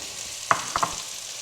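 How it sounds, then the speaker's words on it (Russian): Fried eggplant with spices gets stirred in a pan, producing three or four quick scraping and clinking strokes over a soft, constant sizzle. "Перемешиваем."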